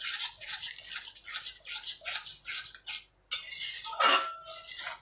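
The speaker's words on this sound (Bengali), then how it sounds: "দিয়ে ভালো করে মিশিয়ে দেব।" A utensil stirs cashew paste into a spice mixture in a cooking pan, giving steady scraping and scratching strokes in a rhythmic series, close and fairly loud, with a brief pause midway.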